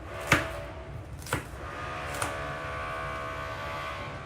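Onions being chopped with a knife on a board, three distinct, well-spaced sharp chops close by, with quiet kitchen background and no talking.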